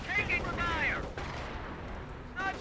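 Artillery shelling in Company of Heroes 1 during a 2v2 match: shells whistle in with falling tones, then hit with sharp, punchy impacts, and another whistle follows, alongside talk.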